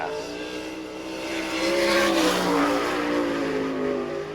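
Number 23 sprint car on a qualifying lap at an All Star Circuit of Champions race in Bechtelsville, Pennsylvania, its engine roaring loud and sustained, swelling as it passes nearer then holding a high, strained drone.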